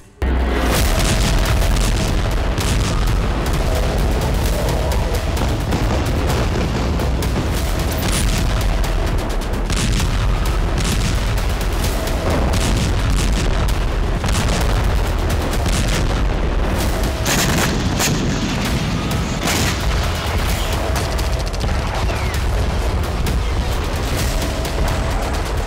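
Heavy explosions and gunfire at Al-Shifa hospital in Gaza: loud booming blasts and crackling bursts of shots that keep coming without a break, harsh and close, with a long rolling rumble underneath.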